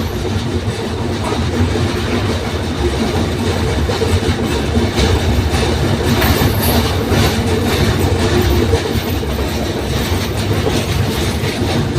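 A train crosses the Jamuna bridge in a continuous loud, close rumble, with steady clattering wheels and occasional faint squeals running through the whole stretch.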